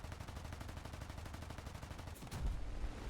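Rapid machine gun fire from a Northrop P-61C-1 Black Widow gunner position in a flight video game rattles in a fast continuous burst, fairly faint, ending with a louder rumble.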